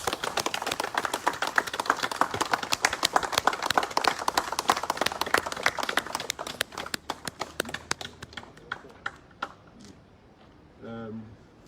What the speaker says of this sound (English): I think we should appreciate them by giving them a round of applause